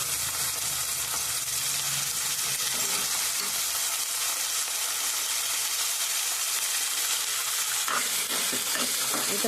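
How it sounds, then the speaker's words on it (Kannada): Onions and tomatoes fry in a pan for egg biryani with a loud, continuous sizzle. Stirring scrapes come through throughout, with a burst of spattering near the end, and no one speaks. "ಈ ಥರ ಟೊಮೊಟೊನ ಹಾಗೆ ಈರುಳ್ಳಿ ಎಲ್ಲ ನೀಟಾಗಿ ಫ್ರೈ ಮಾಡ್ಕೋಬೇಕು."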